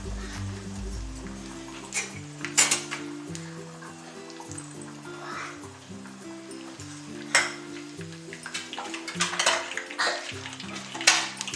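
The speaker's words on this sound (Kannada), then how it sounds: "ಎಣ್ಣೆಯಲ್ಲಿ ಸ್ಲೋ ಆಗಿ ಬಿಡ್ಬೇಕು." Chicken donuts frying in hot oil, with a steady soft sizzle and occasional clinks of a utensil against the pan, while background music plays throughout.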